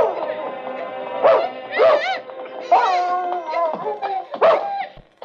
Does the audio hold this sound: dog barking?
yes